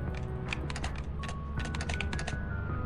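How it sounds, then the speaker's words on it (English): Computer keyboard typing in quick bursts of clicks, clustered runs with short pauses, heard close over a steady background music bed. "it actually sounds like you're typing. Because I can hear your keyboard."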